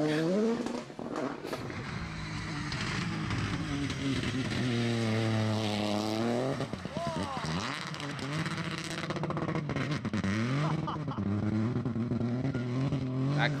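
A rally car engine revs hard and unevenly, rising and falling in pitch, close and loud throughout, with people talking over it.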